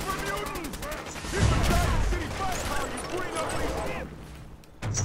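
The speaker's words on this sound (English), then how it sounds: "I hear gunfire." Gunfire in the Fallout 4 video game: bursts of fire crackle through the mix, dense and repeated, heard alongside game music and someone talking over it.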